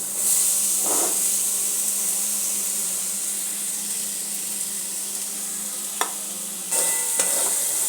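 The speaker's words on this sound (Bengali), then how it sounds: "এবার এর মধ্যে আমি সাবুদানাটা দিলাম" Sabudana (sago pearls) sizzle and fry in a pan while being stirred, a steady close hiss with a few scraping strokes of the spoon, no talking.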